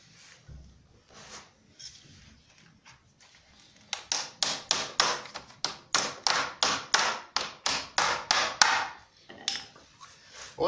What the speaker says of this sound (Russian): И вставляю в дырку, и молотком это все дело забиваю